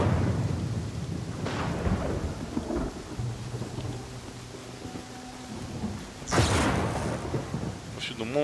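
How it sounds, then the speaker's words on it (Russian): Thunder crashes and steady rain fill a stormy scene in the fantasy role-playing game Pathfinder: Kingmaker, with a low rumbling roll early and a sharp, loud lightning crack near the end over constant rainfall. "Повсюду молния херачит"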